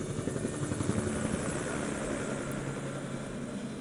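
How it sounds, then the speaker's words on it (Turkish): A helicopter in the game SWAT 4 flying off after dropping off a team, its rotor thumping in a fast steady rhythm with a droning engine whine, loud at first and slowly fading as it departs. "Bir şafak operasyonunda helikopterimiz bizi bıraktı ve uzaklaştı."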